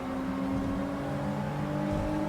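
Race car engines from Gran Turismo 7, with a Mazda RX-7 and a Renault Megane racing, a steady close engine whine with strong tonal harmonics at constant level and no voices.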